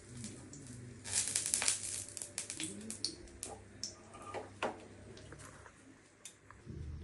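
A dried red chilli crackles and sizzles in hot mustard oil in a pan, with dense irregular spitting pops and ticks, busiest early then settling into scattered crackles, close and moderately loud.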